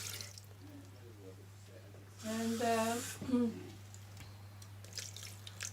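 Cold water runs from a kitchen tap into a kettle as a steady rushing stream, with a low hum underneath and a person speaking over it.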